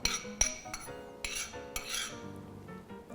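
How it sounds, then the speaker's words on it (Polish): A spoon stirring baked oatmeal mixed with strawberry jam in a dish, with quick scraping and clinking strokes against the sides, close and fairly quiet, with no voices. "porządnie mieszamy naszą owsiankę z dżemem truskawkowym"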